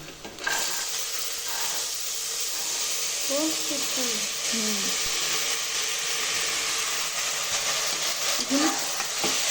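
Beans frying with browned onions in a pan give a continuous, fairly loud sizzling hiss, with a voice briefly heard over it.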